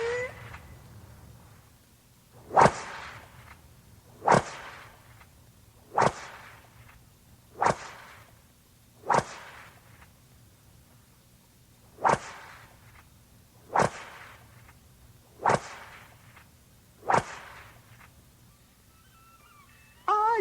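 Sharp whip cracks repeat about every one and a half to two seconds, ten or so in a steady slow rhythm, each a loud, close snap over a faint low hum.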